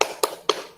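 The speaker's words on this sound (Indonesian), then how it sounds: "hari ini kita akan melakukan tepuk semangat dulu ya" Three crisp hand claps of a teacher-led 'tepuk semangat' classroom clapping chant, evenly spaced and close, with no talk over them.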